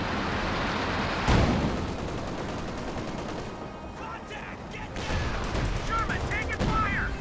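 Machine gun fire from an MG34 in the Company of Heroes strategy game, rapid crackling bursts and distant shots in a busy battle mix, with a sharp crack early on and faint talk underneath.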